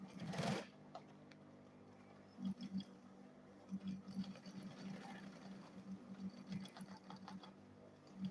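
A sewing machine stitches along the sides of a handbag in quiet, rapid mechanical bursts, starting and stopping several times, faint and close with no voices.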